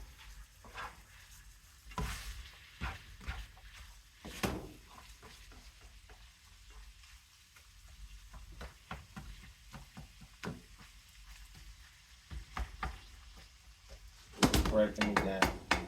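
Taco meat frying in a pan while a utensil stirs and breaks it into smaller chunks, giving a soft steady sizzle with scattered scrapes and clanks; a louder burst of clatter comes near the end.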